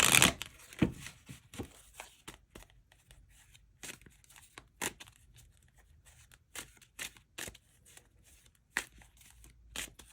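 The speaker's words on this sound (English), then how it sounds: "Final shuffle." Crisp riffling bursts of tarot cards being shuffled, a quick flurry at the start then scattered snaps and flicks, close and fairly quiet.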